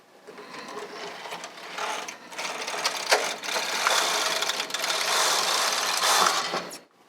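A punch-card knitting machine carriage set to plain knitting sweeps one row to the left, a continuous close mechanical clattering whir that builds over several seconds and stops abruptly.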